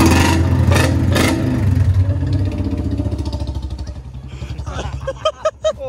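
A Royal Enfield Bullet motorcycle engine revs hard with the clutch held in, loud thumping bursts close by that settle into a rapid irregular putter as revs drop.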